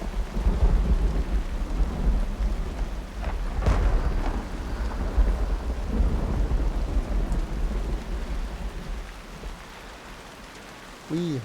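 Steady rain with rolling thunder in the Eder Kemo area of the video game Uru, a continuous loud downpour and low rumbles with a sharper crack near the middle, and someone talking faintly over it.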